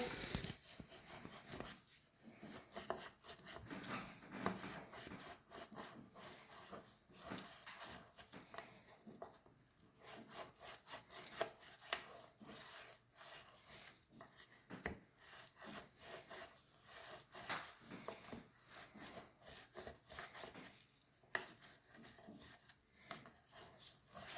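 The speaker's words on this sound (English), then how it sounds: "So just get your bristles right in there, give it a good scrubbing." A bristle brush scrubs a bathroom sink in quick, continuous rasping strokes, close and steady throughout with no talking.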